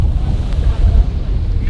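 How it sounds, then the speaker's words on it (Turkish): Strong wind buffets the microphone outdoors at a Tour of Antalya 2022 cycling race, a loud, continuous low rumble with gusty surges throughout, no voices present. "Çok rüzgar vardı, hatta şu anda bile var."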